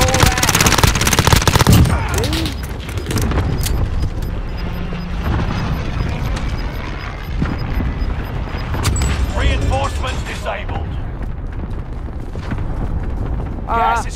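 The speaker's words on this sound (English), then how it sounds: "Cluster strike arriving." In Call of Duty Warzone, a cluster strike lands as a burst of loud, heavy booms alongside rattling gunfire and mechanical clatter. The barrage is dense at first and then keeps rumbling on, with voices talking over it.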